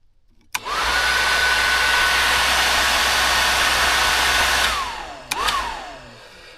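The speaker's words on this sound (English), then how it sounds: "Once you connect it, you're gonna hear the blower fan is working" The heater blower fan in a Geo Golf kicks on with a click and runs as a steady, loud whirring rush of air, then winds down and briefly restarts with another click.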